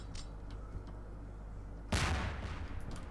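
A frag grenade goes off in Garry's Mod with a sudden loud burst partway through, over a steady low rumbling game background with faint ticks before the blast.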